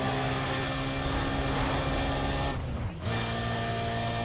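A race car engine in the video game Need for Speed ProStreet roars steadily at high speed throughout, with a brief dip and drop in pitch near the end as if shifting gear, then resumes its sustained drone.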